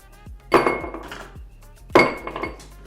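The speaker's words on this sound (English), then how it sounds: "we're gonna start by chilling our glass." A margarita glass being chilled clinks twice against ice or glassware, each a bright ringing chink followed by smaller rattles, with a quiet pause between the two bursts.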